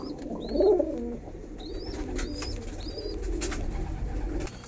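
Andhra pigeons in a loft give low, throaty coos, one louder near the start and softer ones after, while higher chirps and whistles of other birds ring out in the background.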